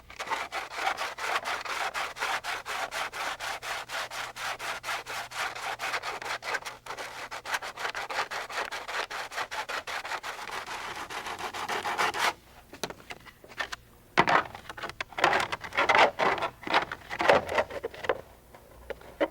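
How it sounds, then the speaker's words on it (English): Sandpaper rubbing back and forth on model helicopter landing-gear skid pants, fast even strokes for about twelve seconds, then pauses and shorter, more irregular scraping bursts as the part is trimmed, close and alone. "Sand and trim as necessary."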